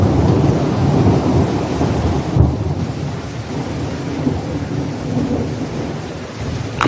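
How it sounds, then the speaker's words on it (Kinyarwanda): Heavy rain pours down in a cartoon scene at a lake, with deep thunder rumbling under the dense, steady hiss of falling water and no voices. "imvura iragwa cyane."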